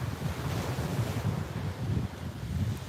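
Ocean surf washing onto a beach at sunrise, a steady broad rush of breaking waves mixed with wind buffeting the microphone, continuous and fairly close with no voices.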